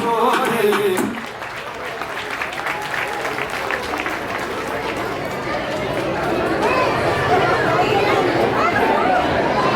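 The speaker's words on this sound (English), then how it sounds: "Big round of applause for Rajasthan." A crowd claps and cheers continuously at a cultural showcase, a steady wash of applause with chatter mixed in after a brief voice at the start.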